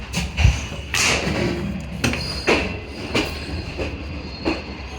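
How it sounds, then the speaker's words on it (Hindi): The Karakoram Express from Karachi on a railway line, with wheels thumping over rail joints in a regular clickety-clack, heavy thuds and brief squeals, fairly close. "41 अप कराकरम एक्सप्रेस कल 3 बजे की चली हुई कराची से"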